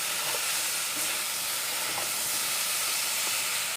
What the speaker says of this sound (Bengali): এবার আমি নুন হলুদের সাথে ঝিঙাটাকে একটু ভেজে নেব